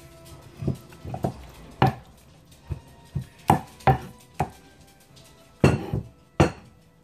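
Spicy salsa is mixed with a pinch of oregano in a stone molcajete, heard as a series of sharp, uneven knocks and clinks of the pestle against the stone, close and distinct, without talk.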